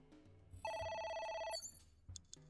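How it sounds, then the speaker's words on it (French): A telephone rings in the video game AI: The Somnium Files, one clear electronic ring burst of about a second, followed by brief fainter chimes, with no speech. "Un téléphone, est-ce que je le décroche?"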